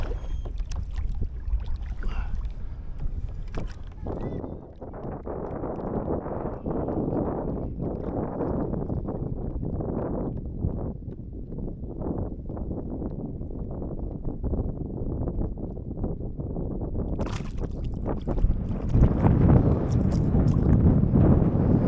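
Gusty wind buffets the microphone outdoors on open water while fishing from a boat, a low rumbling roar that swells and eases across the stretch, with some knocks and rustle near the end.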